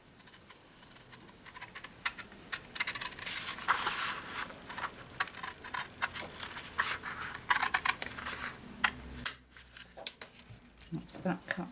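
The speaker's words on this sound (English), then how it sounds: "And we're going to cut this off. Let me get my long scissors for that." Long scissors slice through paper during gift wrapping, producing quiet crisp snips and crinkling close up, with rustling as the paper moves.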